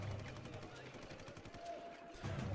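Faint, continuous bursts of artillery and gunfire from the Supreme Ruler 2020 war strategy game rumble at a distance, steady and low in level.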